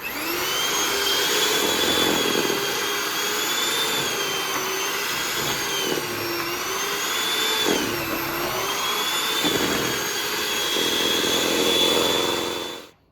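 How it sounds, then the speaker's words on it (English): Butter and sugar being creamed for a Jamaican rum black cake by an electric mixer, a loud steady whine running for about twelve seconds, with slight dips in pitch, before cutting off. "And we're gonna cream this."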